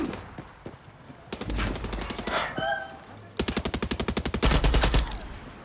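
Automatic gunfire rattles in the Far Cry 6 video game, one burst of shots and then a longer rapid string of evenly spaced loud rounds, with a brief tonal game sound in between.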